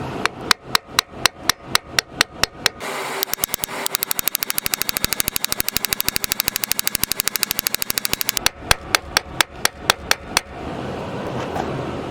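A trailer axle bearing seal being tapped into the hub, steady loud hammer strikes at first spaced evenly, then a long fast run of rapid taps, finishing with slower spaced blows, close and metallic.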